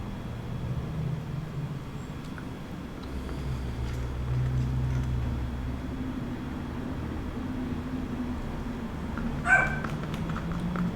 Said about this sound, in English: He likes to bark from the closet to whatever intruder is happening.